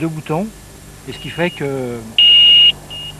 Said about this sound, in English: every car which arrives will be able to hear the alarm